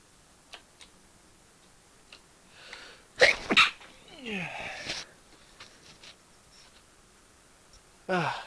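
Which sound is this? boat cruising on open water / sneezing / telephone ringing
sneezing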